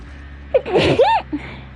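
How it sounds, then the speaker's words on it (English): A single sharp human sneeze, with a short inhale before it and a brief breathy tail after, loud and close against a quiet room while a Dead by Daylight game is played. "About to sneeze."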